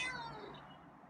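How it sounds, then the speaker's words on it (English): Scruffy, a feral cat, lets out a single close, loud meow that trails away within a second. "you're meowing."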